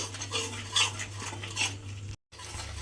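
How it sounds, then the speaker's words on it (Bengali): Paneer masala with chili powder is stir-fried in a pan as a spatula scrapes and clinks against the metal in quick strokes, with a brief dropout near the end. "এবারে সমস্ত কিছু দিয়ে খুব ভালোভাবে আবার একটু কষিয়ে নিতে হবে"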